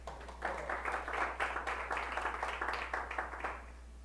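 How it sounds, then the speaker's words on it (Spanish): A church congregation claps during a Bible study service, a soft, rhythmic run of hand claps in quick bursts lasting a few seconds. "Denle un buen aplauso al Rey."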